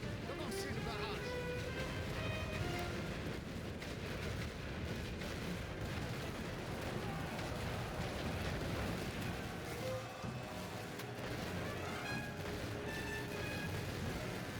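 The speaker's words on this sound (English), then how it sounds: "Commencez le barrage." Artillery barrage in the WW1 strategy game The Great War: Western Front, continuous rumbling booms and blasts under game voice orders and background battle noise, steady and dense throughout.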